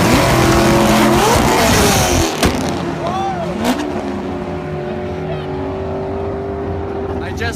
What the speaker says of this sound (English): I just watched a Corvette blow up.